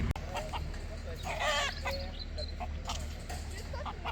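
Hens and a rooster at a livestock farm in Morbihan cluck and squawk nearby, with one louder burst of calls over a low background hum.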